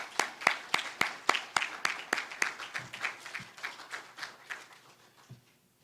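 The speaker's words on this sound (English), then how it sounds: "let's give all our certificate winners another round of applause" Scattered clapping from an audience at an awards ceremony for certificate winners, with sharp separate claps in a quick uneven rhythm that start fairly strong and gradually thin out and fade toward the end.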